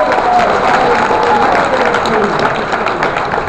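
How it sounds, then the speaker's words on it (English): Audience applause at a convention panel with the Clerks cast, a dense, steady wash of clapping from a large crowd with cheering and voices mixed in, holding loud for the whole stretch. "Big round of applause for Stephen."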